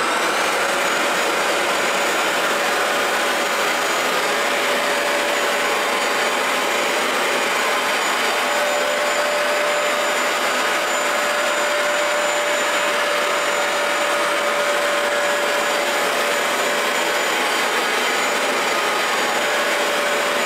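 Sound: Bissell ProHeat 2x Revolution Pet Pro carpet cleaner running

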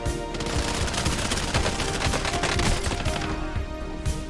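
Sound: sniper gunfire in video game Call of Duty: Warzone

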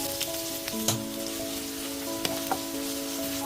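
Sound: chopped onions frying in hot oil

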